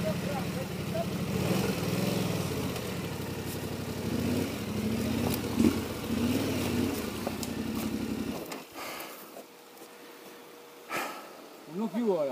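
A Yamaha Ténéré motorcycle engine idles as a steady low rumble under voices and nearby handling noises, then cuts out, leaving quieter ambience with a few sharp knocks.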